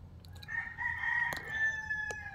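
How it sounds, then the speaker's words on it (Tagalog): A rooster crows nearby in one drawn-out call, with a few brief clucks from other chickens at the start and a short sharp click near the end, loud and close with no speech. "sorry sa mga manok guys. Nag-iral na naman sila."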